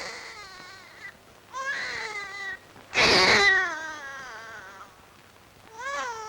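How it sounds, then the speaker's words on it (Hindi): Infant crying in loud wailing bursts separated by short pauses, with one especially intense, shrill cry in the middle, heard alone without talk. "जी हाँ सुन रहा हूँ, बच्चा रो रहा है।"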